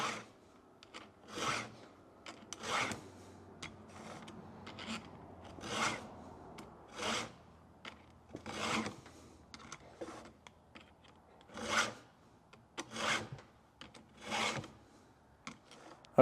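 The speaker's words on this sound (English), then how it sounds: "Really helps to have a vise sharpen a chainsaw." Rhythmic rasping of a file on chainsaw chain teeth, repeated short strokes in bursts with brief pauses between, fairly close and moderately loud.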